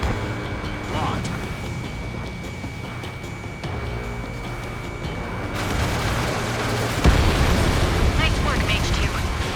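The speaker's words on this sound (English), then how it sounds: "Missile connected. Bomber hit by a missile." Missile explosions burst against a bomber during an Ace Combat 7 air battle, a rumbling blast swelling late in the stretch over steady jet roar, with a radio voice talking over it.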